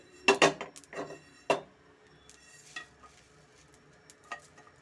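Sesame seeds roast in a pan, giving a few sharp crackles and stirring scrapes early on, then sparse faint pops and clicks against a quiet background, with no talk.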